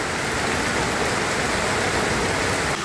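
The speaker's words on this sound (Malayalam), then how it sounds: "ഇവിടെ മൊത്തം മഴയാണ്." Heavy rain pours down on the road to Illikkal Kallu, a steady, dense hiss that stays loud and unbroken throughout, with no voices.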